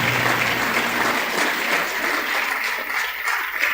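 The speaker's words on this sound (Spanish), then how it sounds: "Dele palmas al Señor." A church congregation claps hands together in a dense, steady wash of applause that carries loud and continuous for the whole stretch, with no clear voice standing out.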